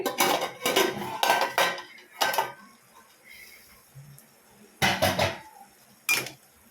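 A spoon scrapes and clanks against a pan while prawn and bottle gourd curry is stirred, several loud bursts of metallic clatter separated by quieter pauses.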